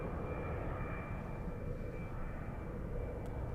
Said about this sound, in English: We have KLM. KLM, there you go, a 737.